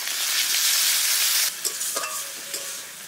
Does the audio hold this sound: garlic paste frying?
yes